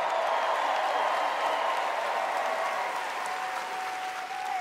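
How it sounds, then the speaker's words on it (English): Audience applause fills a room at the BET Awards during a Lifetime Achievement tribute, a dense steady wash of clapping and crowd noise that holds loud throughout and eases slightly near the end. "make another round of applause right now"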